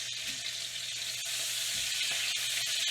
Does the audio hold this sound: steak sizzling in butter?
yes